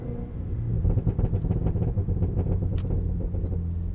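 A deep, rumbling 682hp supercharged V8 in a 2025 Cadillac Escalade V SUV revs loudly up close, its throaty growl rising and falling through several pulls.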